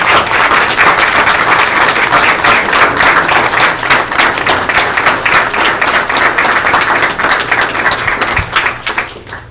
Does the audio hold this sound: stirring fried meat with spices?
no